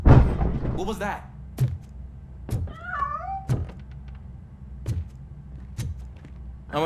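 A cat meowing in the video game RoboCop: Rogue City, a short rising meow heard once amid sparse heavy footsteps and thuds, with a voice speaking nearby.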